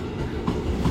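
Tegal Bahari passenger train made up of business-class cars at Bekasi station, a short burst of steady rumbling wheel noise with faint clatter, heard up close from on board.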